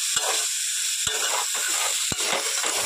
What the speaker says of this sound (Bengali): তো কলাগুলোকে খুব ভালোভাবেই কিন্তু এইভাবে তেলের মধ্যে ভেজে নেব।